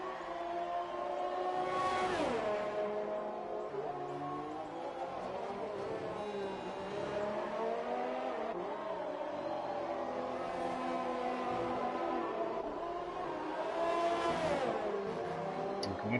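A Haas Formula One car in a sim racing game starts a hot lap at the Australian GP. The engine revs loud and steady throughout, rising and falling in pitch through gear changes.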